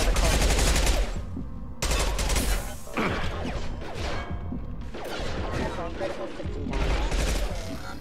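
Heavy gunfire from a Mass Effect 2 firefight rattles almost continuously in loud, dense automatic bursts with a short lull, while voices talk over the shooting.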